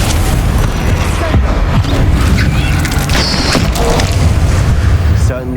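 A Confringo fire-curse spell in the Hogwarts Legacy video game bursts in a loud, dense explosive boom that fills the whole stretch, rumbling and crashing continuously with game voices mixed in.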